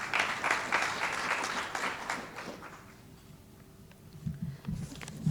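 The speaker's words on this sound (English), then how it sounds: "Ladies and gentlemen, round of applause for Dr." Applause from a conference audience fills the hall as a broadband wash of many hands, loud at first, then thinning and fading to a softer patter with low murmuring near the end.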